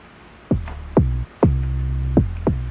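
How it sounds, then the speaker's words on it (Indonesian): An 808 synth driven bass in FL Studio Mobile plays five loud, close notes, each with a punchy attack and a downward pitch sweep before settling into a sustained low boom. "bass yang saya pakai di sini adalah tone 808 bass"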